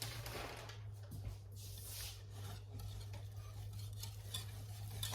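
Cheese being stirred into a homemade cheese sauce in a pot taken off the burner, a continuous soft scraping and swishing of the spoon over a low steady hum, close but quiet, no talking.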